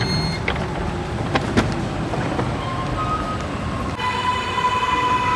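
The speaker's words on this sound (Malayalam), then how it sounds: "എൻ്റെ ട്രെയിൻ ഇത് പോയിട്ടോ" A train passes at a station, giving a loud, steady rumble with scattered clanks and a rising tonal whine in the later part, and no talk.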